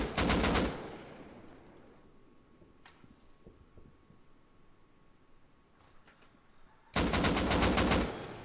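Automatic rifle fire in the survival game Rust, a sharp rapid burst at the start, a quiet stretch with faint distant pops, then another loud close burst.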